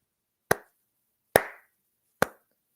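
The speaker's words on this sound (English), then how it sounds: "A slow clap." Three slow, deliberate hand claps, evenly spaced nearly a second apart, each crisp and close with a short decay, in an otherwise quiet setting.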